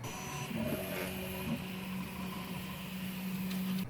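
Prusa i3 MK3 3D printer running, a soft steady whir with faint stepper-motor tones that shift pitch as it moves, quiet and continuous throughout.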